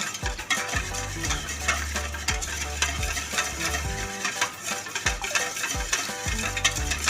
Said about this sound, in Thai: ผสมเข้ากันนะคะแล้วให้เขาละลายดีนะคะ